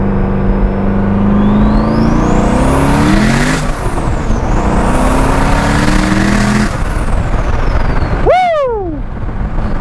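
Twin-turbo Corvette C6 Z06 roaring loud and close through a second-gear dyno pull at about 12 psi boost, two long rising sweeps with turbo whine, then a sharp drop and quick descending whistles as the throttle lifts.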